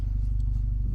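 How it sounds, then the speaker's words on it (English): A car idles nearby in a busy car park, giving a steady low rumbling engine pulse throughout. "so excuse the car noise"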